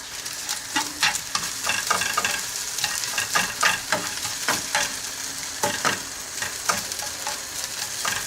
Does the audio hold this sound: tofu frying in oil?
yes